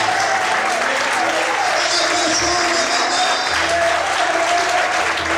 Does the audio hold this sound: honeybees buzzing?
no